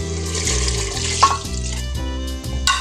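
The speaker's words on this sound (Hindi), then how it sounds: "पानी डाल दिया मैंने" Water poured into a pot of meat for aloo gosht, a continuous close splashing and trickling stream with a few brighter drips, alone and fairly loud.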